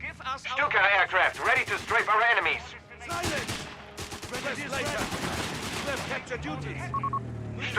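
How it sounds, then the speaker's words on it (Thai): Gunfire and explosions in the WWII strategy game Company of Heroes 3, bursts of rapid machine-gun fire and sharp shots crackling through a battle soundscape, fairly loud, with intermittent radio-like chatter mixed in. "ข้างหลังมีการระเบิดอยู่ข้างหลังมีการระเบิด"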